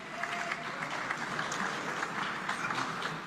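Supporters clap after an election result is proclaimed: a steady, moderate wash of crowd applause from many hands, continuous and even with no cheering or peaks, heard at some distance.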